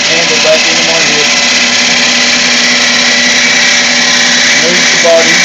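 Wood lathe rough turning with a gouge, a loud continuous whirring drone of the spinning blank and cutting, with a voice speaking briefly over it.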